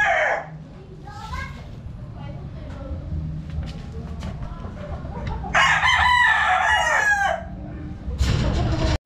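A young rooster crows loudly and clucks close by in a yard, with bursts of crowing standing out over background voices and children nearby.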